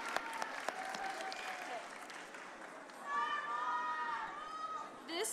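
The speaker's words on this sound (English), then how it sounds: "can we have one more applause for all of them?" Scattered audience applause at a school showcase event, a few claps early on fading under crowd chatter and children's voices, quiet and somewhat distant.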